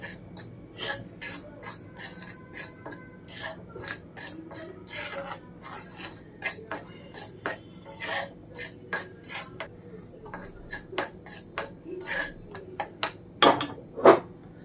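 Herbal hair dye paste mixed in a bowl: steady, soft rhythmic scraping and rubbing strokes repeating throughout, quiet and close, ending with a few sharper knocks.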